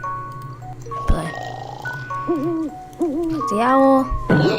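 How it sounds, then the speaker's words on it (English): An owl hoots in a video game with a series of wavering, tuned electronic hoots and rising calls over a low hum. A person talks excitedly between the hoots. "The owl."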